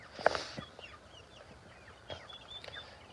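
Black Australorp chicks chirp in a brooder cage, giving soft high peeps and small clucks scattered across the moment, with one louder call near the start and quiet room noise underneath.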